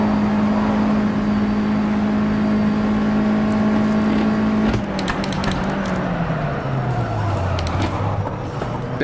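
A USF2000 race car in rFactor 2 at Suzuka West holds a high steady engine drone, then the pitch drops sharply as the driver brakes hard, with gear-change blips over the descending engine note.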